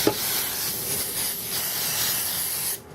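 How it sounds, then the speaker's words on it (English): A continuous close-up hiss of cooking spray on a baking pan runs for nearly three seconds, then cuts off abruptly. "you want to spray down very well so it don't stick in there"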